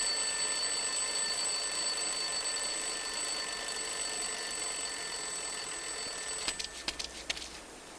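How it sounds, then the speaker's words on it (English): Alarm clock ringing steadily inside a rubbish bin in the video game Lost Horizon, a continuous shrill bell that cuts off abruptly near the end, followed by a few faint clatters. "Okay, I'll place the alarm clock in the rubbish bin. Let's see what happens when it goes off."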